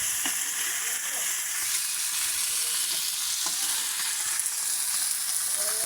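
Pieces of chana fish fry in hot oil with a steady, dense sizzle that runs unbroken from start to finish, close and fairly loud, with faint stirring or turning noises beneath it.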